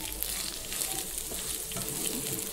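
Ivy gourd curry sizzling in hot oil in a pan as curry leaves go in, with a dense, continuous crackle and spatter up close.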